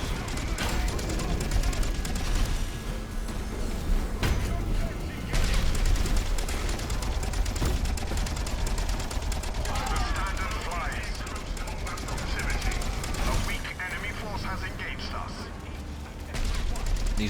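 Bombing attack on a shield in the real-time strategy game Dawn of War 3: dense, continuous barrage of explosions and gunfire rumbling throughout, loud and chaotic, with a commentator talking over it.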